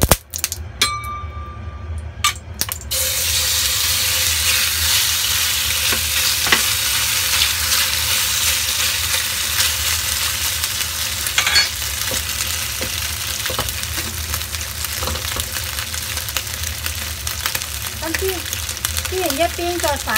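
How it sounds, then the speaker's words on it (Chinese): Beef frying in hot oil in a wok for a dry-fried beef noodle dish, a loud steady sizzle running throughout with a few metallic clangs early on and brief faint voices near the end. "煎一邊再反另一邊煎下佢"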